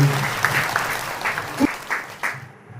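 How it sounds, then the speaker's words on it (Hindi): Short burst of clapping from the crowd at a Hindi kavi sammelan poetry gathering in Shahdara, marking two birthdays, fading out within a few seconds with scattered voices under it. "तो एक बार जोरदार ताली दोनों के लिए आप लोग देंगे"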